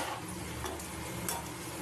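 Whole garam masala being stirred into a curry in a pan while fish is cooked in an Ilish style, a steady close scraping and light sizzling with faint clinks of utensil on metal, no talking.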